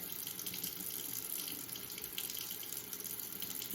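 Warm water runs steadily from a sink tap, a continuous bright splashing stream at close range, even in level and with no talking over it.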